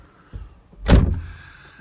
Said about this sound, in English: we can close the door and hear that lovely clunk